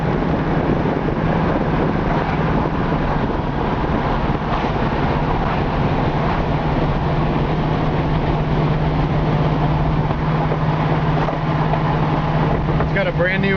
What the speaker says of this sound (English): And it cruises down the road great.